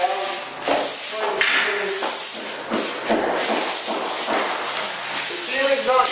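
Drywall angles and butt joints are being rough-sanded before a final coat, a steady broad abrasive hiss with rhythmic scraping strokes, close and continuous, while a voice talks over parts of it.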